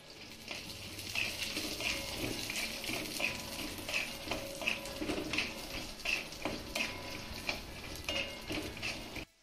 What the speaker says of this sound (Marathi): त्यानंतर अर्धी वाटी यामध्ये आपल्याला शेंगदाणे घालायचे आणि शेंगदाणे देखील मस्त असे खमंग खरपूस भाजून